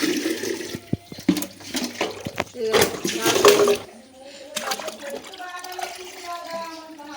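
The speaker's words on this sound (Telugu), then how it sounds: "నేనైతే వాటర్ పడుతున్నా" Water rushes loudly into containers being filled outdoors in a Telangana village for about four seconds, then drops to a quieter flow while a person talks nearby.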